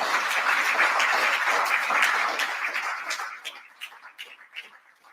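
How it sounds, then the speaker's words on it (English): An audience applauds at a ceremony, dense clapping filling the room that thins after a few seconds into scattered separate claps. "I think we need a better clap than that."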